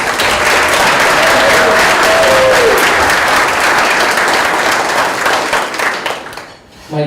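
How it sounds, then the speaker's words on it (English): Sustained, loud audience applause fills a room at an annual downtown development association meeting, with dense clapping throughout and a brief murmur of voices beneath, tapering off near the end. "So we can give them a round of applause, please."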